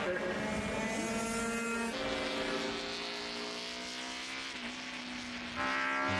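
Classic racing motorcycles, including RS 250 and TSR 250 Honda two-strokes, scream past at a bike festival race, a loud high-revving engine whine sweeping by with a pitch drop and another machine rising near the end.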